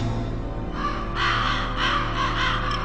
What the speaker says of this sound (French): les corbeaux ne sont pas des nécrophages